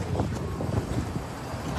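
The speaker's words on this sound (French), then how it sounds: "Une poussée extraordinaire grâce à ces moteurs Merlin." Merlin engines of a SpaceX Falcon rocket thunder during a Crew Dragon launch, a continuous broad roar with rumbling, buffeting texture, loud and unbroken.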